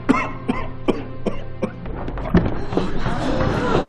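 A film character coughs repeatedly, a run of sharp, evenly spaced hacking coughs that gives way to rougher, denser coughing and throat noise toward the end.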